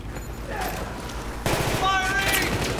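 Gunfire erupts in the video game Battlefield 3: a muffled volley, then a louder, sharper burst of rapid shots about halfway through, with voices talking over the action.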